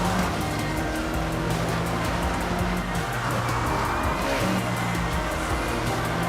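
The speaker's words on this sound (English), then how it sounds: "I can hear that car right behind me" A video game car roars right behind the player, a loud sustained engine drone with tire noise and no pauses.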